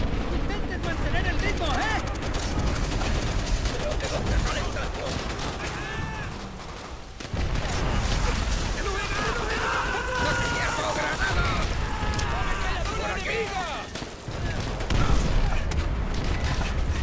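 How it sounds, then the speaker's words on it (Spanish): Enemy machine gun fire in the World War II shooter Call of Duty: World at War, part of a loud, continuous battle din with booming blasts, shouting and talk over it. "¡La maldita ametralladora tiene la zona cubierta!"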